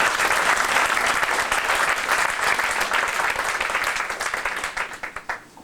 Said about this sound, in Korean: 우리 한번 뜨겁게 박수 치면서 한번 기대드리겠습니다